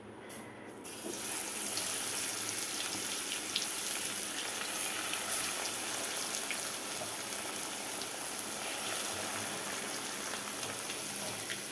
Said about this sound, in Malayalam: ഇതിനെ നമുക്ക് എണ്ണയിലിട്ട് വറുത്ത് കോരി എടുക്കാം